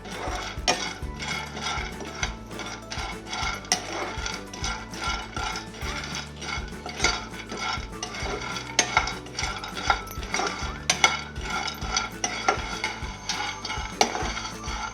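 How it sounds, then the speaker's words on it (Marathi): Dried lentil dumplings being roasted in a little oil in a pan, with repeated scraping and clinking of a spatula against the pan in an irregular stirring rhythm throughout, close and fairly loud. "तेल टाकते थोडंसं. छान असे खरपूस सांडगे भाजून घ्यायचे."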